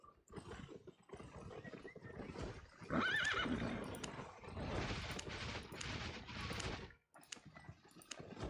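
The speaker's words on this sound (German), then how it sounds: "Wir holen uns ein gepanzertes Pferd." An armored horse in a video game whinnies amid a busy soundscape of hoof clip-clops and clicking, faint and somewhat cluttered, with no talking.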